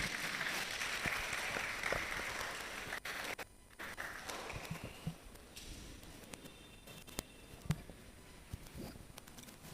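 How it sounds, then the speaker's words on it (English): Audience applause at a national public speaking competition semi-final: moderately distant clapping that thins out into scattered claps and patters as it fades. "Please, a round of applause for them."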